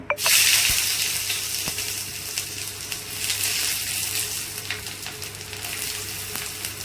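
Hot oil for veg fried rice, Chinese style, sizzles loudly and steadily in a pan after a sharp initial crackle, with a few light clinks and no talking.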